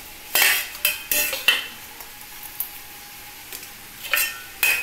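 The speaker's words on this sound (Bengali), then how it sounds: "এই যে মাছটা দিয়ে দিচ্ছি।" Fish pieces go into a curry pan amid a series of sharp metallic clinks and scrapes of a utensil against the pan, spaced irregularly, over a faint background sizzle.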